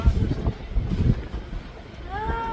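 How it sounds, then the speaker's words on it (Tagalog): Strong, cold wind buffets the microphone with low rumbling gusts in Nagoya, Japan, and a voice speaks faintly near the end. "Sobrang hangin."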